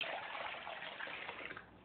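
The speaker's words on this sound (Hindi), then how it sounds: "इसमें हम जो है मग्गे से पानी ऐड करने वाले हैं। बिल्कुल ठंडा पानी होगा हमारा" Cold, unchilled water poured from a mug into flour for golgappa (pani puri) dough, a steady broad gushing pour at close range with no talk over it.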